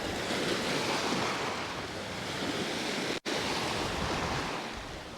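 Sea waves wash steadily onto the beach at Alcudia in Spain on a slightly wavy day, a continuous close broadband roar of surf with wind noise on the microphone, briefly cut out once midway.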